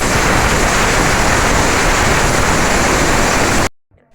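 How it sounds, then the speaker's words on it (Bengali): Potatoes boiling in a pot during home cooking, a loud, steady bubbling hiss that fills the clip before cutting off abruptly near the end. "আর এদিকে আলু সেদ্ধ হচ্ছে"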